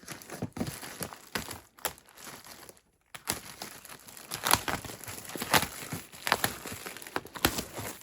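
Knife slicing packing tape and unpacking a shipped box, close crinkling and rustling of cardboard and plastic with scattered tearing scrapes and a brief quiet gap partway through.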